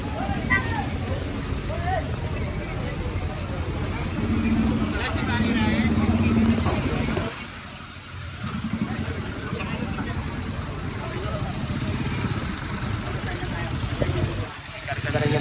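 NMAX motorcycles and motorized tricycles pass along a town street, making a continuous mid-pitched engine hum with a brief lull partway through, while someone talks over the traffic.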